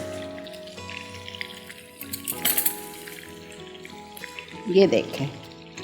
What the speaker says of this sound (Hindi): ऑयल में मैं शामिल करूँगी जिंजर गार्लिक पेस्ट नहीं, chopped ginger and chopped garlic 1 tablespoon.